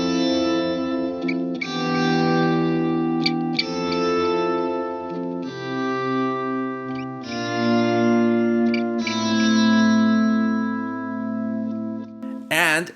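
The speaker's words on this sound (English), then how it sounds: "I have a dynamic echo, which is going to swell in my guitar and my delays at the same time." Sustained guitar notes swell in gently via a dynamic echo and bloom into layered repeating delays, a lush effected tone ending with a brief sharp burst.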